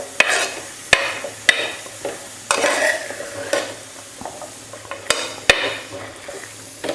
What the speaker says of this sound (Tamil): காய் வந்து எண்ணெயில் நல்லா வதக்கிக்கலாம்